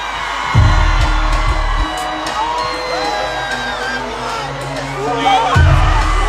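Women in the crowd at a live concert in England scream and whoop, loud bursts rising over a booming bass-heavy backdrop, with a voice shouting through a mic at the start and end.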